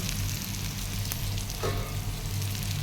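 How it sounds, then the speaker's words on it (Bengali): Taro greens with shrimp fry in a pan, a steady close sizzle with a low hum underneath and no talking. "চিংড়ি মাছ দেওয়া কচুর শাকটা বাগার দিছি"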